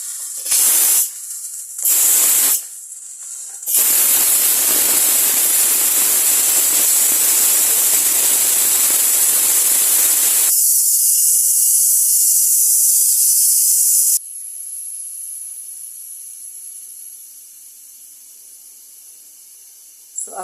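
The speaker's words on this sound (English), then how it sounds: "I'm going to release the steam." Steam blasts from the release valve of a Pressure King Pro electric pressure cooker, first in two short bursts, then as a loud sustained hiss for about ten seconds that thins and fades to a faint whistle.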